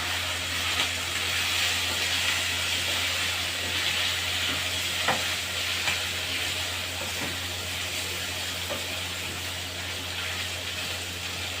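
Breaded vegetables fry in hot oil in a pan, a steady close sizzle and hiss with a few faint pops and crackles, continuous throughout with no talk.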